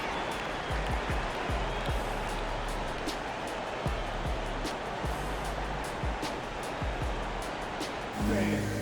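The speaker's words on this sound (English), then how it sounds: "Please give a big round of applause for your Raptors youth team" A crowd applauds in an NBA 2K23 basketball game arena, a steady, dense wash of clapping and cheering that holds for the whole stretch, with faint thuds underneath.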